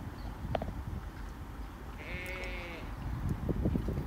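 Sheep in Saudi Arabia are herded one after another into their pen, and one clear bleat rises over a steady background of shuffling hooves and low rumble.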